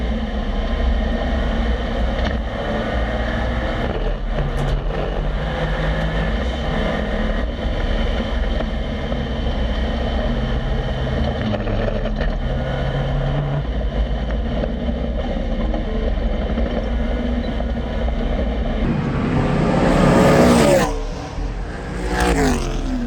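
Racing cars, a Porsche 911 and V8 race cars, battling on track at Speedfest 2024, a loud sustained engine roar holding steady, then swelling and rising sharply as a car passes close near the end.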